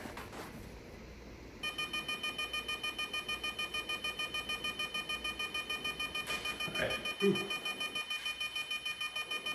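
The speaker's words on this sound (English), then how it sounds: "Car's beeping at me." A Ferrari F430 Spider's warning chime beeps steadily in a fast, regular rhythm during convertible top removal, with someone briefly speaking and grunting over it.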